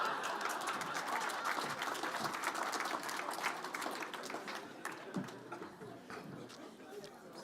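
Audience applause at an economic development address in 2017, a dense, steady patter of many hands clapping through most of the stretch, gradually thinning toward the end.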